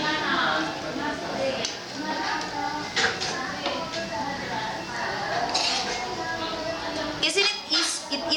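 Plates and cutlery clink and scrape nearby, light and irregular, while chicken chopsuey is dished up in a home kitchen; someone talks over the clatter.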